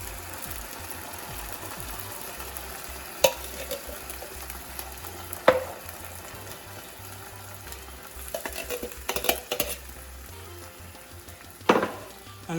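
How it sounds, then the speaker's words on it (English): Black beans tipped into a pan of sautéing onions and pepper over medium heat, a continuous low sizzle broken by a few sharp clatters and stirring scrapes, no voices. "I'm gonna go ahead and add my black beans right into this pan here"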